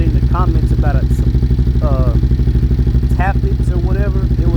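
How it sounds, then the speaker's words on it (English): A motorcycle engine idles with loud tappets clattering inside it, a steady mechanical pulse close by, while someone talks over it. "the engine, you can hear the tappets inside of the engine"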